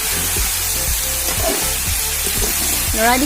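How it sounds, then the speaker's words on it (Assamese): Duck curry with pumpkin and potato stirred in a wok, a loud steady sizzle broken by scraping strokes of the spoon, with a voice faintly in the background. "এতিয়া কোমোৰা আৰু আলু দিয়াৰ পিছত লৰাই দিছোঁ।"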